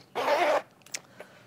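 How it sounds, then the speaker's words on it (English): A single quick zip as a small zipper on a hanging travel toiletry bag is pulled open, close and crisp, followed by a couple of faint clicks and rustles. "First, you're going to see this little zipper up here."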